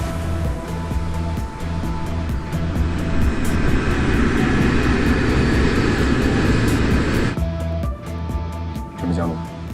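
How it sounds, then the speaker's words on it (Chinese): An airliner on final approach to land on runway 35 left, its engines giving a loud, steady roar throughout with faint voices underneath and a brief dip in the noise near the end. "飞机马上就要降落了"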